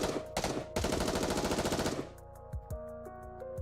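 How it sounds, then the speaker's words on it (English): Rapid automatic gunfire from the video game Goddess of Victory Nikke rattles loudly for about two seconds, striking an enemy's core, then gives way to scattered impacts and softer game sound effects. "is promptly assaulted by a hail of gunfire to its core"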